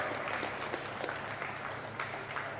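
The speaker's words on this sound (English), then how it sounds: "Go ahead, clap. You clap right there." An audience claps steadily for a couple of seconds in a hall, a dense even patter of applause at moderate distance without voices.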